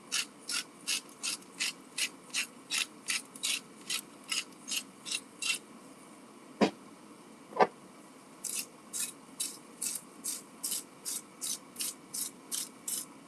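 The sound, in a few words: grinding roasted pepper and garlic seasoning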